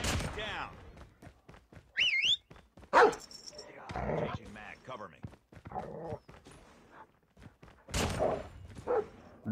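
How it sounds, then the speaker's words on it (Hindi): Dog barks in the Call of Duty Mobile video game sound out in short bursts, mixed in with game effects and someone talking throughout. "डॉगी महाराज कहाँ हो आप?"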